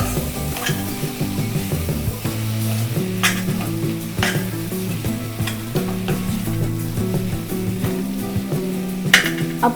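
Potatoes with coriander powder and spices sizzling in a pan for Kolhapuri matki usal, a continuous bright fry with repeated scraping stirs and spatula clinks against the pan, no voices.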